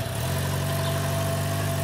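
A motorcycle engine idles steadily nearby on a learner's first ride, a constant low droning hum with a faint tonal whine above it, even and unbroken with no talk.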